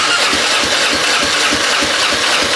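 Motorcycle engine cranking over without starting, a loud rhythmic chugging of starter and engine turning at a steady pace of roughly four strokes per second.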